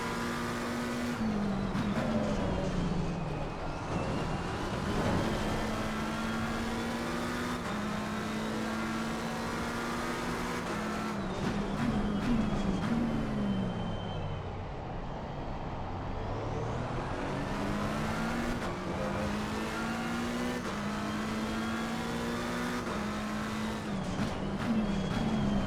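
GT race cars at Donington Park in Assetto Corsa Competizione, an Aston Martin and Ferrari among them, with engines climbing through the revs, shifting up and dropping back repeatedly in a continuous loud drone through corners and straights.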